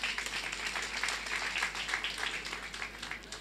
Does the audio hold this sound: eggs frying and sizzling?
no